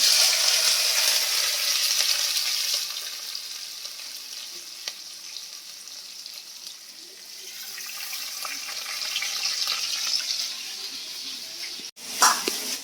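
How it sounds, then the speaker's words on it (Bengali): Onions sizzling in a hot wok of oil with panch phoron and dried red chili, a steady bright frying hiss throughout, a touch softer midway, ending with a sharp clatter. "আর এখানে পেঁয়াজ দিয়ে দেবো।"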